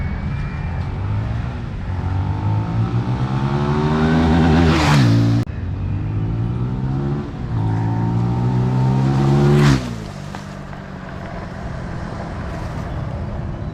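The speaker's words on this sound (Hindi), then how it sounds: "ये बाइक बहुत ही ज़बरदस्त किस्म से रेव करता है" A Benelli TNT25 250cc single-cylinder motorcycle with fuel injection revving hard twice, each rev climbing steeply in pitch to a sharp peak then dropping back, followed by a steady idle; close and loud, no talk.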